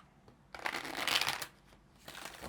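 A deck of tarot cards is riffle-shuffled once, a close, crisp flutter of cards lasting about a second, followed by a brief softer rustle as the deck settles, with no talking.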